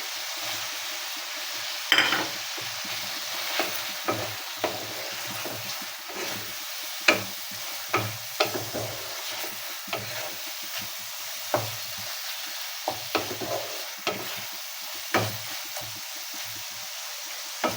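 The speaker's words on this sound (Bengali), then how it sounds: "টমেটো দেওয়ার পর মশলাটা একটু কষিয়ে নিচ্ছি" Spice paste frying and being stirred with chopped ripe tomatoes for a small-fish curry, a steady low sizzle broken by repeated scraping knocks of the spoon against the pan, close and without voices.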